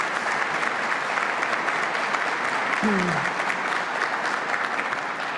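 Steady applause fills a hall at a governor's economic development announcement at a flagship university, honouring the host, with a brief voice cutting in midway.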